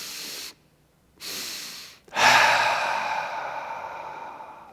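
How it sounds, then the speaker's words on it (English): Breathing exercise of two quick nasal inhales, a short pause, then a long, loud open-mouth exhale that slowly fades; close and clear with no talking. "finish with 5 double inhales followed by an exhale through the mouth"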